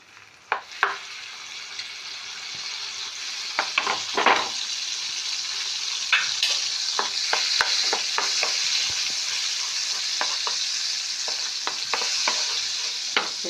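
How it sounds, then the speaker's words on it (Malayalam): Butter sizzles and fries in a pan while being stirred, preparing a white sauce for macaroni pasta; steady close crackling with repeated scraping and clinking strokes, no voices. "നമ്മൾ ചെയ്യേണ്ടത് പാനിലേക്ക് കുറച്ച് ബട്ടർ ഇടണം."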